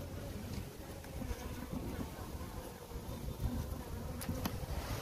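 Honeybees kept by a beekeeper hum in a steady, continuous drone close by, with a soft airy background and a few faint higher buzzes passing near the end.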